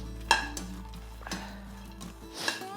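Makhana (lotus seeds) being stirred with chili powder in a pan: a spoon clinks and scrapes against the metal a few times, with light rattling of the seeds and a faint sizzle, close by and without speech.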